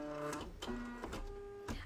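A sewing machine runs a short burst of three securing stitches at the end of a seam, giving a steady motorized whine broken by a few distinct mechanical pulses, close and loud with no talk.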